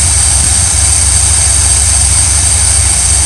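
An RV engine idles while warming up, a loud, steady low-pitched rumble and drone with a constant hiss above it, with no break or change.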